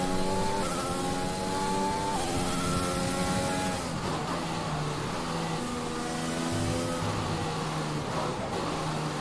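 An F1 car in the F1 2021 racing game, whining loudly at high revs through a corner, its engine pitch stepping down and climbing again with gear shifts, under a continuous roar.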